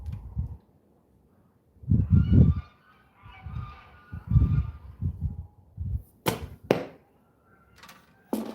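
Domestic geese and ducks by a bird feeder in South Dakota give repeated loud honks in uneven bursts. They end with a few sharp, harsh calls close by, and no voices are heard.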